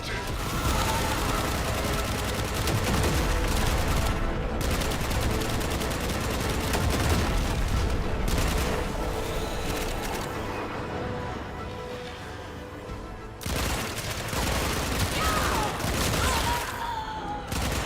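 Sustained automatic gunfire from a turret-style gun in the sci-fi shooter Warframe, loud and dense with heavy booms and brief pauses, running nearly continuously throughout.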